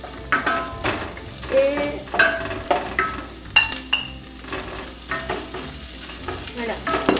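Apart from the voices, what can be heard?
chorizo frying in a pan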